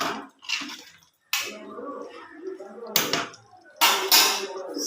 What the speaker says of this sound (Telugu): మూత పెట్టుకున్నాను, కాసేపు మగ్గనిద్దాం.